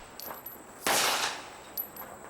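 A single loud gunshot from an IDPA shooter engaging targets rings out mid-stretch, with a couple of faint, sharper cracks before and after at a distance.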